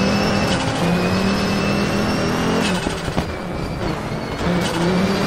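An Audi Quattro E2 rally car races on a snowy Swedish night stage in WRC 9, its engine loud and close, revving and surging through gear changes with brief drops in between.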